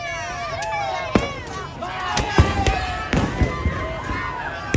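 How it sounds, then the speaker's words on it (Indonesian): Bamboo cannons fire at a New Year's Eve festival in Makale, giving several sharp booming bangs at irregular intervals over a loud crowd with people talking. "menghentikan peserta yang masih membunyikan meriam bambunya"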